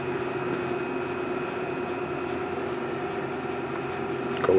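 A Hardinge HLV-EV tool room lathe runs in low gear at about 200 RPM, giving off a steady mechanical hum with a faint tonal whine, ending in a brief clatter.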